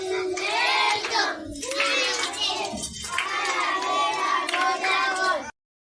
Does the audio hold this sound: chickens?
no